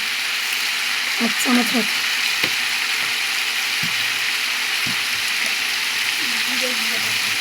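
Turmeric and ground spices sizzle in a pan for a papaya curry, a steady broadband frying hiss throughout with a few scraping stirs, while someone talks briefly over it.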